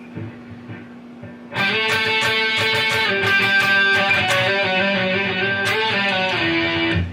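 Electric guitar playing a solo phrase with slides along the neck, a quiet opening followed by a sustained, bright lead line of connected notes over a constant amp hum.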